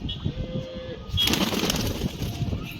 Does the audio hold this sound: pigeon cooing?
yes